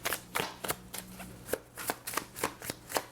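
Oracle cards being shuffled by hand in short, crisp riffling bursts, about nine or ten in steady rhythm, close up with a faint low hum beneath and no talking.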